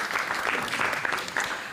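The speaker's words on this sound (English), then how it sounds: "Let's give him a round of applause," Audience at a DDD Europe software conference clapping for a speaker after a test automation talk, a dense, steady round of applause filling the whole brief moment.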